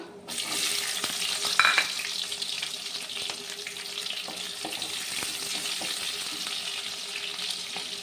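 Small shallots and fenugreek seeds fry in hot oil for a Chettinad fish curry, making a loud, continuous crackling sizzle from start to finish, close up with no speech.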